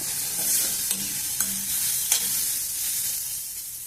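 Grated carrots fry in a pan for gajar halwa with paneer. A constant sizzle runs throughout, and three or four light spatula taps and scrapes stand out at intervals.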